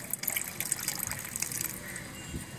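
Water being stirred and sloshed in a container while mixing a liquid feed for garden plants, a steady close splashing and trickling with no talk.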